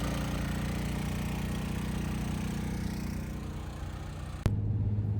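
A portable generator runs steadily at close range, a continuous mid-pitched engine drone with no breaks, ending in a brief sharp knock before the hum carries on.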